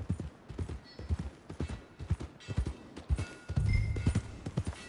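Horse hooves clip-clopping at a steady walking rhythm in a Western-themed PS4 video game, close and clear, with a brief heavier rumble near the end.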